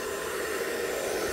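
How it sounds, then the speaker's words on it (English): Hair dryer blowing steadily down onto acrylic paint during a Dutch pour, a constant close whooshing airflow with no breaks and no talking. "hairdryer aimed down"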